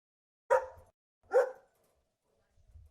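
A dog barks twice in quick succession, loud and close, each bark sharp and clean, with a quiet pause and faint low rustling afterward.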